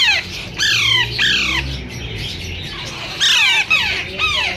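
Parakeets at a Sunday bird market in Bahawalpur, including green ringnecks, give repeated harsh squawks, several loud, close bursts in two clusters over low crowd murmur.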